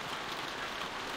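Steady rain falls in a scene from The Walking Dead video game, a dense, even hiss that holds at a constant level throughout with no speech.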